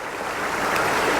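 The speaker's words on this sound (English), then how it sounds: "it's a little waterfall flowing down this burn" A small waterfall pours down a burn, making a close, steady rushing splash of water with no voices.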